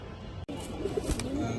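A pair of black pigeons from a fancy breeder's collection coo softly in a few short calls, heard faintly alongside someone talking nearby.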